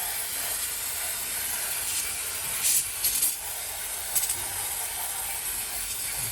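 Aerosol throttle body and carburettor cleaner sprays onto a VH Valiant Charger carburettor as a steady, loud, close hiss, with a few brief louder spurts in the middle.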